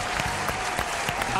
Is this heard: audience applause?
yes